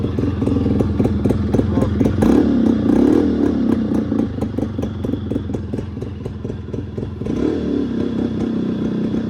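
A motorcycle engine, started with a kick, runs close by with a steady idle and repeated revving and mechanical clatter throughout.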